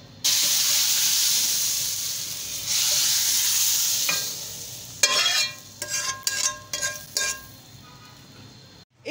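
Vermicelli hisses in a hot pan over slow heat, a steady bright sizzle for several seconds, then a run of quick scraping stirs in short bursts as it is moved around.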